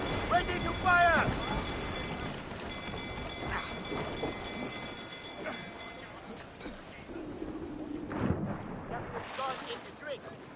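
Ship cannons firing during a naval battle in the video game Assassin's Creed Freedom Cry, heavy booming blasts amid rumbling sea and wind ambience, with crew voices shouting over the noise.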